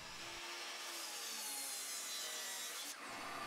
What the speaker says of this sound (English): chop it up into blocks over at the miter saw.